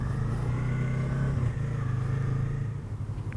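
A motorcycle riding off and accelerating, its steady engine drone rising and holding at close range with a slight drop in pitch near the end, heard alone with no talk.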